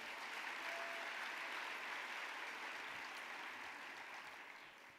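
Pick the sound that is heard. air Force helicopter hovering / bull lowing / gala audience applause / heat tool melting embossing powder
gala audience applause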